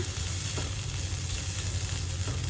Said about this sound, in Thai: เราผัดพริกแกงให้หอมค่ะ ไฟค่อนข้างอ่อนนะคะ